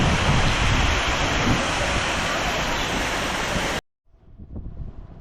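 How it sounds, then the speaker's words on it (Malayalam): Periyakanal waterfall roaring with dense, loud, continuous rushing water that cuts off abruptly, leaving faint wind and rustle. "പെരിയകനാൽ വാട്ടർഫാൾ."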